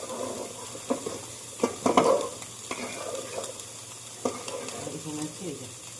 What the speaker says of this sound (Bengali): এদিকে চিংড়ি মাছ ভাজা হচ্ছে